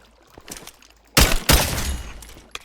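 Gunfire from a firearm in a modded Minecraft game: a sudden loud burst of rapid shots, a brief pause, then a second sustained volley trailing into noisy decay, with faint quieter sounds before it.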